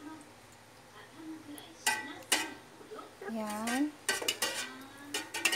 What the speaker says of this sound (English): Now, just continue mixing, baby.